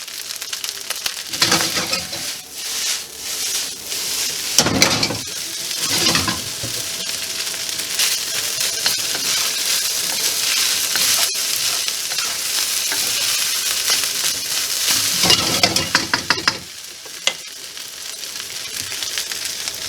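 Garlic fries for pork fried rice in a loud, continuous sizzle with bursts of scraping and clattering as a utensil stirs the pan. The stirring comes in several spurts over the steady hiss.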